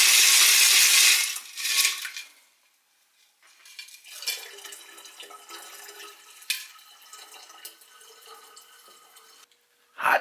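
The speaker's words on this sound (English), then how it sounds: "This will be rinse number 3, hot distilled water going in" Hot distilled water is poured over silver crystals for rinsing, opening with a loud splashing pour, then fading into scattered clinks, drips and trickles that end in a sharp knock.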